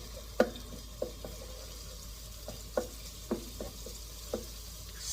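Ginger and garlic sizzle quietly in a pan while being stirred for an egg roll filling, a soft low fry broken by several sharp scrapes and taps of the utensil against the pan.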